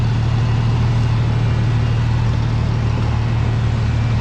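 Stripped-down 880 engine running, a loud, steady low idle with an even hum held close and unbroken, no voices over it.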